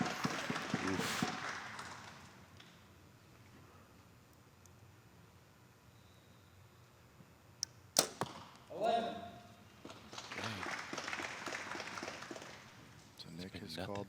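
Arrow shot striking the target at a professional indoor archery finals, the Lancaster Archery Classic: one sharp thwack partway through, amid crowd murmur and a commentator talking.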